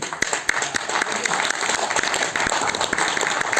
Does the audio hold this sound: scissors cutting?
no